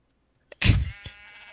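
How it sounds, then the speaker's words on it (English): A single sheep bleats in Minecraft, one short loud wavering bleat after a brief tick, ending with a soft thud against an otherwise silent background. "There was a sheep swimming in it"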